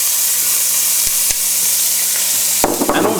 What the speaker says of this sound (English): Now with the pan still hot, I'm just going to go in with the onion.